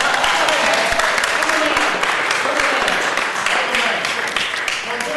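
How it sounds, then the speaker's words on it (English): Steady applause from a committee meeting audience fills the room, a dense crackle of many hands clapping at once that holds evenly for several seconds. "Okay, you can clap."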